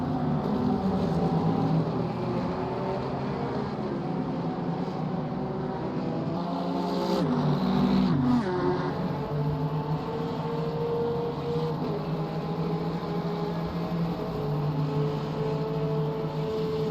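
GT3 race cars at Silverstone, Porsches and AMG and Corvette V8s, roar past down the straight in a steady, loud engine drone, with a louder pass-by swell partway through.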